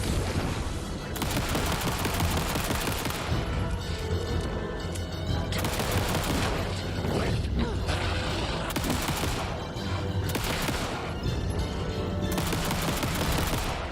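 Full-auto service weapon gunfire in Alan Wake II rattles in long, dense bursts with brief gaps, loud and close, continuous across the clip.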